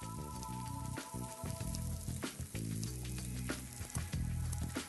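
Kalbi (Korean short ribs) sizzling over a direct-heat grill, a steady crackling fry with sharp pops and spits throughout, close and fairly loud with no talking.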